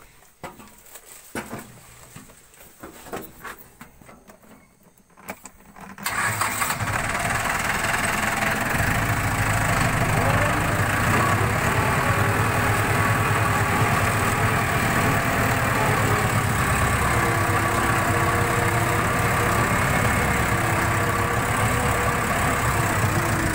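After a few seconds of quiet outdoor ambience with birds, a dump tractor used for hauling oil palm fruit starts idling, a steady loud mid-pitched rumble.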